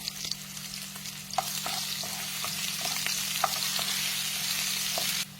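Onion and ginger sizzle in a pan for shrimp soup with sponge gourd, a steady close frying hiss with stirring clinks and scrapes throughout, no talking.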